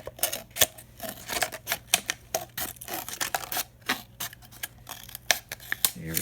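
Scissors cut around the flat part of a plastic glue bottle, making a quick run of close, crisp snips and clicks in an uneven rhythm.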